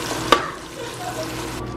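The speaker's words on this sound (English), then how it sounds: "I'm gonna add my blended pepper." Blended pepper is added to a hot pot for king crab and snail vegetable soup, giving a steady close sizzle with a brief clank near the start.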